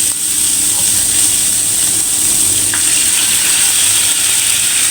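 Garlic, ginger and green chili sizzle in hot oil as a little water is splashed in, a loud steady crackling hiss that runs unbroken.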